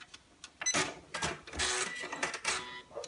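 A sewing machine stitches down the edge of a fabric tablet case in short bursts of rapid whirring and clattering, backing and forwarding, with brief pauses between runs; no talking.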